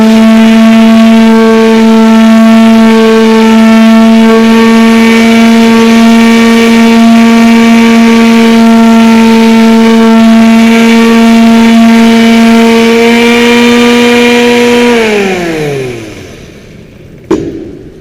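A handheld power sander fitted with 80-grit sandpaper runs with a loud, steady motor whine for about fifteen seconds, then winds down as it is switched off, ending with a sharp click.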